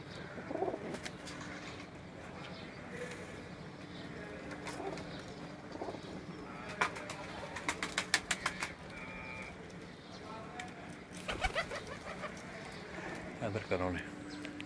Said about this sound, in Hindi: ये पहले नंबर पर आज जिस कबूतर को देख रहे हैं, ये अभी थोड़ी देर पहले कासम भाई